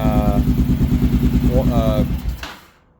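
Kawasaki KLR650 motorcycle engine running steadily and loud with a rhythmic throb, then sputtering and dying out as it runs out of fuel, leaving near silence.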